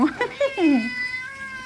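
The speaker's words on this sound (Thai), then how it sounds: "แมวจรจัดมาขอข้าวกิน" A stray cat meows for food in a run of several short, close meows ending in one drawn-out, falling cry, with no talk over it.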